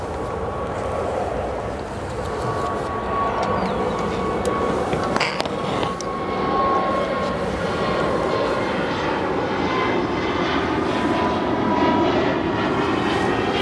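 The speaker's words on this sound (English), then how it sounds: "These are truly rapid fire takeoffs" Jet airliners take off in rapid succession at O'Hare airport, a loud, continuous engine roar that surges slightly as each aircraft climbs away.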